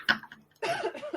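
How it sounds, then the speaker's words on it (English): A person coughs twice close by: a short, sharp cough first, then a longer, rougher one after a brief pause. "Making me cough over here."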